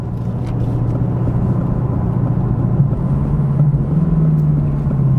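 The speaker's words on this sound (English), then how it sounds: "Very aggressive downshifts." A 2025 Aston Martin Vantage engine rumbles steadily through aggressive downshifts, its low drone rising in pitch toward the end of the stretch. The sound is close and continuous, and no one speaks.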